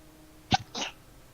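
A single short sneeze, a sharp sudden burst followed by a softer breathy tail, fairly quiet and alone over a faint background.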